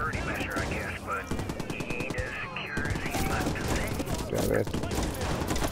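Rapid automatic gunfire from the video game Watch Dogs, heard as dense bursts of shots with a player's voice briefly over the shooting.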